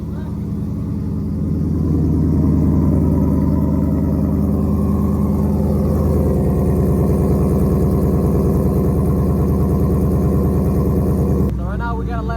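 A Jeep SRT8 fitted with a Stage 2 HHP Racing cam idles while warming up, a loud, steady, rumbling engine drone nearby that holds evenly before cutting off near the end.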